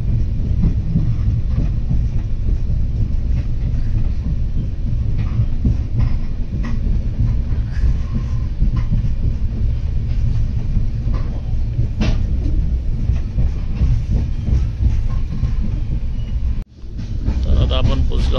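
A Konkan Railway passenger train runs along, its steady broadband rumble and faint rhythmic rattling filling the carriage, with a brief dropout near the end.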